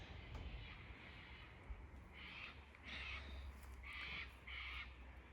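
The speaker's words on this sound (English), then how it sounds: "You're lucky you're not one of those horrible cockatoos screeching in the distance." Cockatoos screeching far off in the Blue Mountains: four harsh, raspy calls in a loose series over a quiet outdoor background, faint and distant, with no talking.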